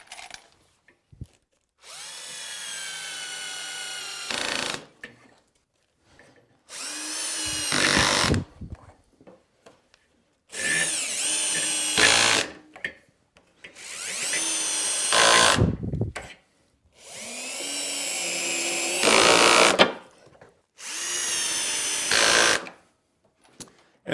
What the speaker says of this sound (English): I can drive in the pocket screws.